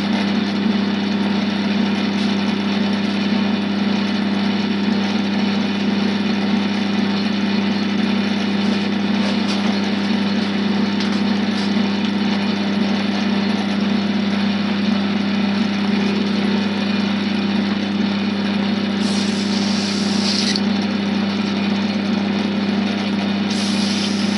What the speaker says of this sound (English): I've got the lathe on top speed again.